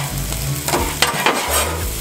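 Garlic shrimp and rice sizzle in a pan while being stirred, giving a close, loud, steady frying hiss broken by scraping stirs.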